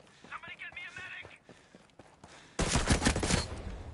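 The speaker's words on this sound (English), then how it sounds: "I hear unsuppressed enemy fire." Unsuppressed enemy gunfire in the tactical shooter Ghost Recon Breakpoint erupts as a loud, dense burst of rapid shots partway through. Quieter game sounds and talk come before it.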